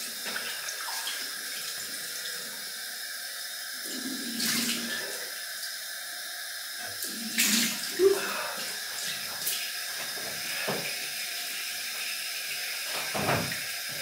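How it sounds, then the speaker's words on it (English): Running tap water for a cold rinse during a wet shave, a steady hiss of flow with a few louder splashes as hands and face meet the stream. "Cold water rinse."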